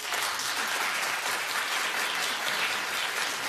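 A TV studio audience claps in a dense, even burst of applause that continues without letup for a few seconds.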